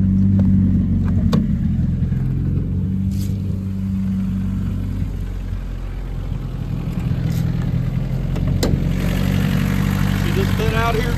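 A car engine converted from hydraulic to mechanical cams idles just after a cold start, giving a steady low mid-frequency drone with slight variations in rhythm and a few brief clicks, fairly near.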